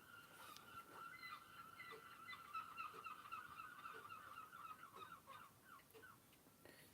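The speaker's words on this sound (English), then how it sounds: "seagulls are noisy this morning" Faint gull calls carry from a distance, a run of harsh, repeated cries over a soft outdoor hiss.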